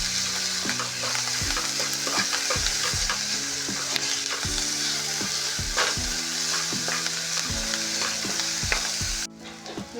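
Finely chopped capsicum stir-fries in a hot pan for baby corn Manchurian, sizzling steadily while a spatula clatters and scrapes in a quick, regular rhythm, close and loud, with no talking.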